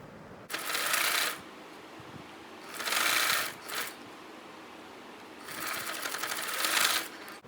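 A sewing machine stitches the shoulder pieces of a wrap dress together, running close up in three short bursts of rapid whirring separated by quiet pauses.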